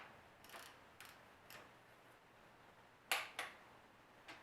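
Torque wrench on a small-block Chevy 327 clicking as cylinder head bolts are tightened in steps: several faint, spaced clicks, then two sharper, louder clicks close together near the end, with no talking.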